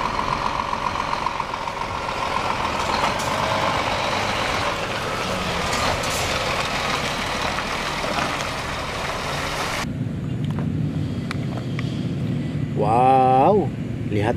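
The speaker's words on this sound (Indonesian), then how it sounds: "Wow, lihat teman-teman, ada mobil truk molen." Concrete mixer truck engine idling and rumbling nearby, a steady low drone with a shift partway through, with background noise and a brief tonal whine near the end.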